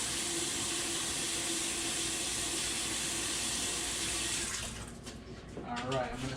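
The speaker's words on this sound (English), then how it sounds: "a little rinse again." Water runs steadily from a tap for a rinse, a constant close hiss that drops off near the end, followed by a few splashes and a quiet trickle.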